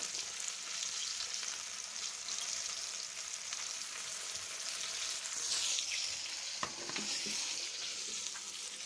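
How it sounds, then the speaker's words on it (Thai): Fish frying in oil in a wok over lowered heat, an even, steady hiss of sizzling with a brief knock of a utensil near the end. "ใช้ไฟแรงไม่ได้ แรงแต่ตอน เอาปลาลงครั้งแรก ไม่งั้นมันจะไหม้ก่อนสุก"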